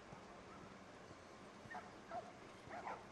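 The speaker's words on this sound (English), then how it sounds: "Got some dogs." Dogs in The Last of Us give faint yips and whimpers, a few short bursts late on over a quiet low background hum.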